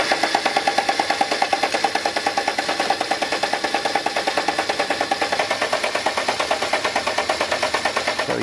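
A Land Rover Defender engine cranks steadily without catching, a fast rhythmic starter churn repeating evenly for several seconds, close and loud with no speech.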